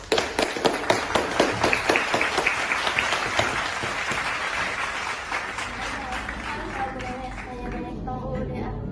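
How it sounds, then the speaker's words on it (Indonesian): An audience gives applause for three special guests at a talk-show style event on the constitution, a burst of rhythmic clapping and cheering that settles into sustained applause with voices mixed in. "Kita beri aplaus untuk 3 bintang tamu spesial kita kali ini."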